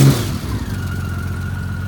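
A 1997 Honda Valkyrie motorcycle engine, not fully warmed up, idles just below 1,000 RPM with a close, steady low rumble and a faint high whir running alongside.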